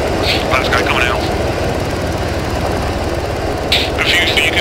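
Helicopter rotor and engine noise, loud and steady throughout at close range during a pararescue evacuation, with faint voices coming through briefly.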